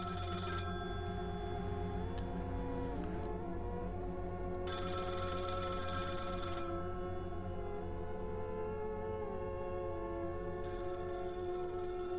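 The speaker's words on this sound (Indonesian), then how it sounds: "kembali bunyi dering telepon itu terdengar meneror telinga." An old telephone bell rings again and again in a quiet boarding house at midnight, its repeated bursts of bright metallic ringing steady and fairly loud over a low background hum, with short pauses between the rings.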